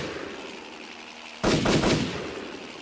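A sudden burst of gunfire from a mounted gun aimed at a helicopter, one sharp loud onset followed by a short rattling volley that decays into a lingering background rumble.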